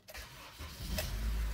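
A Honda CR-V engine that is hard to start turns over and catches, rising into a steady low rumble that grows louder and fuller as it settles into smooth running.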